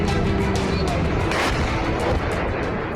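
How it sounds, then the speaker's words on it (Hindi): Drone strike explosions hitting high-rise buildings in Kazan, a dense rolling barrage of booms and sharp cracks, loud and continuous with faint voices underneath. "ड्रोन तेजी से उड़ता हुआ आया, मल्टी स्टोरी बिल्डिंग से टकराया और जोरदार धमाका हुआ"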